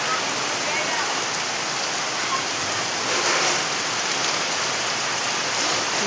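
Rain falls outside in a dense, continuous hiss, steady and fairly loud with no breaks.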